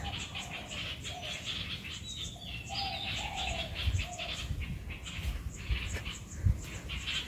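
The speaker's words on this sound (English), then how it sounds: "the birds are trying to get in their nest. And listen to their sounds." Many birds call in the evening around their nests in trees, a busy overlapping chorus of chirps and short whistles with lower cooing, moderately close and continuous.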